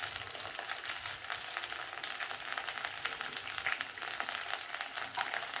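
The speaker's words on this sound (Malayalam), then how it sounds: "ഇനി എടുത്ത് വെച്ചിരുന്ന ഉള്ളി അരിഞ്ഞിട്ട് കൊടുക്കാം." Chopped onions fry in hot oil for an okra masala curry, a steady broadband sizzle with faint crackles and stirring scrapes running throughout, fairly quiet and continuous with no voices.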